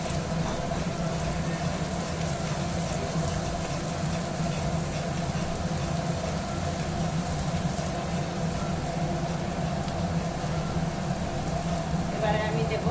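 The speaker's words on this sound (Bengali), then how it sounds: "এবারে আমি রসুন বাটা দিয়ে দেব। এটাকে আমি একটু লাল করে ভেজে নেব।" Garlic paste frying in hot oil in a pan, a steady dense sizzle and crackle that holds evenly throughout, close and continuous with no talk over it.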